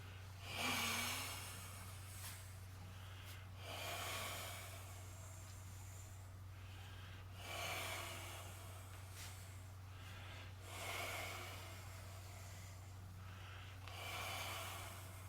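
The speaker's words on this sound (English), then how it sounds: "breathe in, around the shoulder, breathe out" Slow, audible breaths in and out during a qigong exercise, about four long hissing cycles spaced a few seconds apart, faint and close over a low steady hum.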